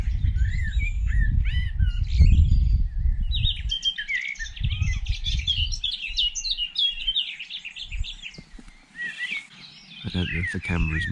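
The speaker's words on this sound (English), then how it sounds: "this appears to be a dawn chorus with an owl in it, a tawny owl" Dawn chorus in the English countryside with a tawny owl among the birds: several birds chirping and warbling at moderate distance, with low rumbling handling or wind noise underneath at times.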